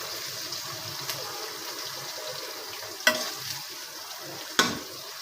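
Korola bitter gourd frying in a pan after salt is added, a soft continuous sizzle with a few sharp spoon scrapes and clacks as it is stirred.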